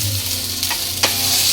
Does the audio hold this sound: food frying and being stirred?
yes